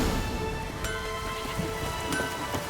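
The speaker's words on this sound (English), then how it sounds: "Oh, raining again." Steady rain in the fantasy role-playing video game The Witcher 3: Wild Hunt, a moderate continuous hiss with faint patter and a few brief sharper ticks, no speech.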